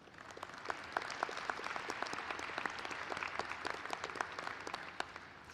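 Audience applause at a college of nursing convocation ceremony, a steady wash of many hands clapping, sustained and fairly quiet, heard from a distance without speech.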